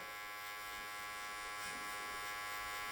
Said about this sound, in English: Do you ever have the foil shaver on your hair?